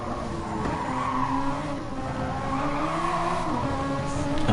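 Race car tyres squealing in a sustained slide during a Formula-style racing game at Le Mans, a continuous screech over steady engine drone.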